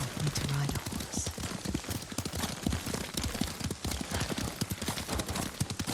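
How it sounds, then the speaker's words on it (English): Horse hooves clip-clop at a steady riding gait in the Ghost of Tsushima video game, a continuous rhythmic patter over background game ambience, with faint talk mixed in. "Lord Sakai taught me to ride a horse."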